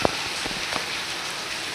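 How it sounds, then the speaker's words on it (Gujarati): Heavy evening rain falls in a steady, dense hiss, with a few sharper drops landing on a surface near the start. No one speaks. "વરસાદ ચાલુ થઈ ગયો"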